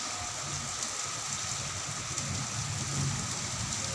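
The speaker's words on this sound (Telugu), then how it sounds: "ఫుల్ వర్షం, అసలు ఏమి కనబడేదు." Heavy rain at a hilltop temple makes a dense, steady hiss with no breaks, moderately loud and even over a faint low rumble.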